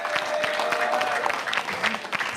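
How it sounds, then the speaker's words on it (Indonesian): Audience applause at a press conference following the fifth 2024 Indonesian presidential debate, steady clapping throughout with some speech-like sounds mixed in. "tepuk tangan dulu dong"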